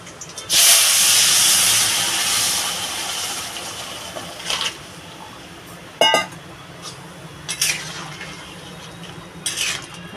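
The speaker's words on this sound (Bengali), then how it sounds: "এবার বন্ধুরা তরকারিটা ঢেলে দেবো" Crab and bottle gourd curry is poured into a hot pan, setting off a loud, sudden hiss that fades over a couple of seconds, followed by quieter bubbling and a few brief clatters.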